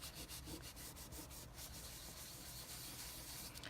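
Steady, faint rubbing comes from buffing ink off an embossed surface, a soft continuous scrubbing with a quick back-and-forth texture and no voices.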